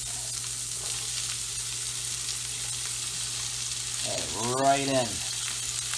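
Onions and peppers hit a hot pan with browned sausage for sausage rigatoni and fry in a steady, loud sizzle, while a voice speaks briefly near the end.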